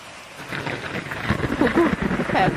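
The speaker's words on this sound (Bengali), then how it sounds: "এখনো তো বৃষ্টি থামলো না" Steady rain falls through the night in a cartoon village, a continuous hiss that swells slightly, with a voice briefly heard over it.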